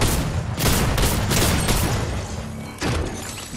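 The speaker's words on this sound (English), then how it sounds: "Shooting him with a drum shotgun." Drum shotgun fired at an enemy in a video game: a rapid burst of heavy, booming blasts in quick succession, then a pause and one more loud shot near the end.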